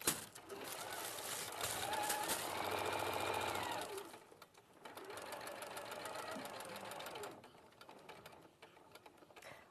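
Sewing machine stitching a base onto a bag, a rapid rhythmic mechanical clatter in two runs with a short pause between, close and fairly quiet.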